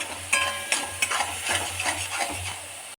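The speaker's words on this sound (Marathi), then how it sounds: "छान फ्राय करून घेऊया, म्हणजे मिरचीचा कच्चापणा निघून गेल्यावरती जास्त तिखट नाही लागणार आपल्याला" Green chilies frying in a pan for stuffed bitter gourd: a steady close sizzle runs throughout, broken by several sharp scrapes and clinks of a spatula stirring, with no talking.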